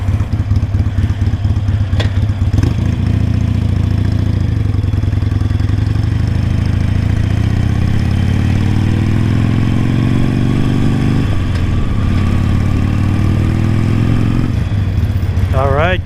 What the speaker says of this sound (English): I rode this Harley literally through Daytona Beach.